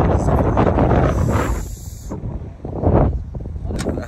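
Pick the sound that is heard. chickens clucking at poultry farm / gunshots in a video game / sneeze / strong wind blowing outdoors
strong wind blowing outdoors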